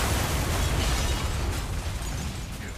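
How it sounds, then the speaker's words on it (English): Explosions in the video game Until Dawn, with barrels blowing up during an action sequence: a loud, dense, rumbling roar that stays heavy for nearly three seconds and fades slightly toward the end. "More explosions for us to avoid, through there, and a slow motion jump out of the way."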